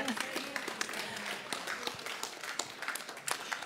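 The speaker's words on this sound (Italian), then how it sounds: "Facciamo un applauso noi stamattina." Scattered applause from a studio audience at a live bread-baking cooking show hosted by a chef, light and uneven claps with voices talking over them throughout.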